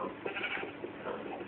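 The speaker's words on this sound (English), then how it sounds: "There's 2 sheep and a pig." Sheep bleat in a Minecraft farm, a continuous wavering bleat, fairly faint, heard alone.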